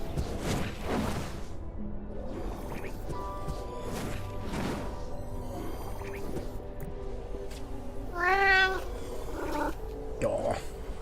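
A cat in the management game Mind over Magic gives a couple of short, high, warbling calls near the end, heard faintly over game music and ambient sounds.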